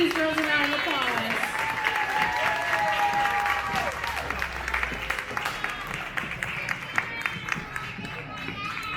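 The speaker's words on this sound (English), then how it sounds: "Let's give these girls a round of applause." A crowd at an outdoor car show claps and cheers for a lineup of pin-up contest girls, with loud sustained applause mixed with chatter and a voice speaking over it.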